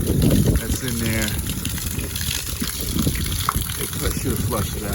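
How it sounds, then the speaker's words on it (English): Water gushes steadily from an outdoor faucet being flushed during a spigot repair, a loud continuous splashing rush lasting throughout. "So I'll turn on the water. It's gonna gush out, and I'll see what happens."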